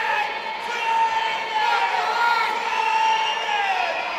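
A crowd at a live fight event, a women's bout, cheers and whoops loudly and continuously, with shouting voices layered in the steady roar.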